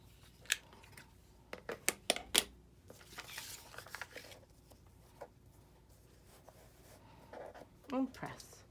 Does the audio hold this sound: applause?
no